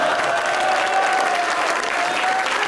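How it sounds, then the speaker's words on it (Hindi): Audience applause at a comedy show in Pakistan, steady and fairly loud, a dense wash of clapping that holds evenly through the whole stretch with no voices standing out. "इसमें ताली नहीं बजानी थी।"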